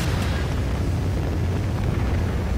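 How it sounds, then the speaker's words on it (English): A Trinity rocket strike explodes in Call of Duty: Ghosts as a dense, rumbling blast of roaring low-heavy noise that holds loud and steady throughout without a break. "Friendly Trinity rocket inbound."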